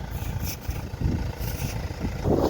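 Engine idling steadily just after starting, a low rumbling run with slight surges, fairly close and heard alone without talk.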